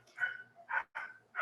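Several dogs bark in a quick series of loud, close yelps and barks, four bursts in under two seconds, heard during an online webinar with no talk over them.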